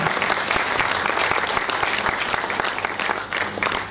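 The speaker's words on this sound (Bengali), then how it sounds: "আপনারা হাততালি দিয়ে এটাকে স্বাগতম জানাবেন" Audience applause welcoming the opening of a Bengali Baidyas website, a dense steady clapping from a crowd that holds loud and continuous throughout without pause.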